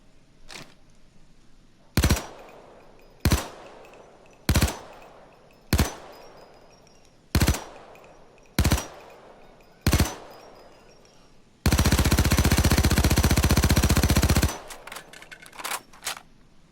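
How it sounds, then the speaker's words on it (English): An FN P90 personal defense weapon fires in the video game Payday 2: seven single sharp shots spaced about a second apart, then a long unbroken automatic burst and a few trailing shots. "So let's actually test out the recoil pattern this time."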